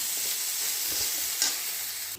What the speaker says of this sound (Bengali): তো শুকনো লঙ্কা দিয়েছি আর একটু জিরে দিয়ে এটাকে আমি ড্রাই রোস্ট করে নিচ্ছি